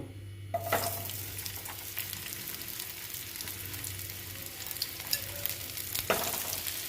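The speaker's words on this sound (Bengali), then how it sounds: "তেলটা আমার গরম হয়ে গেছে এইবার আমি এই যে দেখো ঢেঁড়সগুলো আমি এখন এই তেলেতে দিয়ে দেব" Okra goes into hot oil, bringing up a sizzling fry with occasional clatters of stirring, moderately quiet and close, no voices over it.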